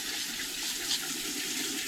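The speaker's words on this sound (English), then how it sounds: "So it's as simple as you just spray the water" A handheld diaper sprayer blasts water into a toilet bowl, a steady close hiss of spray running unbroken and alone for about two seconds.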